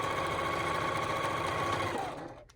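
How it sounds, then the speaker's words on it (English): Sewing machine stitching the lining of a quilted Christmas stocking with right sides together, a steady, close, continuous motor whir and needle rattle that holds level for about two seconds and then stops. "You're sewing right sides together."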